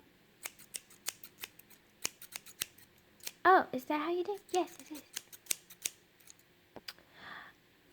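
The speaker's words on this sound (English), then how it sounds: "take your piece of paper and cut on the lines that have been folded like this." Repeated crisp snips of scissors cutting paper strips along folded lines, steady and close, in a classroom, with a short exchange of voices in the middle.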